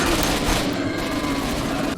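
Loud, sustained volleys of gunfire rattle without pause as wild boars are shot down in the STALKER video game, dense and continuous with no voices.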